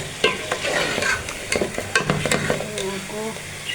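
Chicken with capsicum frying in a pot while a utensil stirs it, with a steady close sizzle and repeated scraping, clattering strokes against the metal, and no talk.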